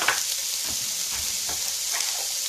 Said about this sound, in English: can you hear it sizzling? Making sure it's getting good and brown.